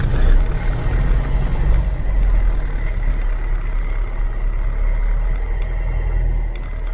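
Piper Cherokee 140 light aircraft engine turning over and running, a heavy low rumble loudest at the start and then settling into a steady throbbing idle, heard close up from inside the cockpit.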